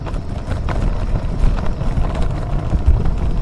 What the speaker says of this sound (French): Léger vent.